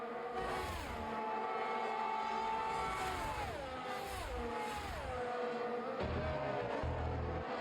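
Race cars in a Belgium race overtaking with DRS, engines rising and falling in pitch through repeated revving sweeps, with a brief lower rumble near the end, close and steady with no talk.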